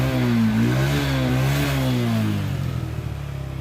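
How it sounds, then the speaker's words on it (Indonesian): A reassembled Honda Revo motorcycle engine idles loudly up close with a steady, slightly wavering hum, then settles into a rougher, pulsing putter near the end. "Mesinnya sudah nyala dan kita akan runningkan. Kita akan menghidupkan beberapa menit."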